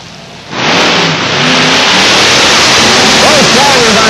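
Wheelstander drag racing cars launching down the quarter mile at London Motorsports Park in 1992: a sudden, loud engine roar bursts in after a quiet half second and holds at full power, with a faint announcer voice beneath it.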